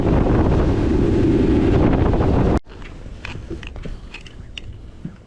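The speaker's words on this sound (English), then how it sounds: "The wind is about 16 knots out of the north" Strong north wind of about 16 knots buffets the microphone on a fishing boat, a loud roaring rumble that cuts off abruptly midway, leaving faint water and boat noises with scattered small knocks.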